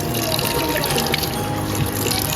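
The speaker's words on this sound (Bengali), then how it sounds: "শাকটা এখন ধুয়ে নেবো" Leafy greens being washed in water, with steady splashing and trickling running throughout at close range.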